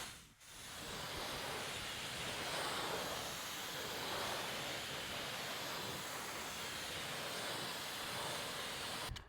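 Pressure-washer water spray rinses car wheels before wheel cleaner goes on, a steady loud hiss that runs without a break for the whole stretch, with nobody talking.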